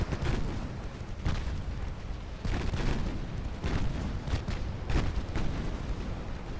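Naval guns firing as a battleship sinks in the naval warfare game Ultimate Admiral Dreadnoughts, a rolling string of deep booms and blasts that stays dense and continuous, with several heavier bursts standing out.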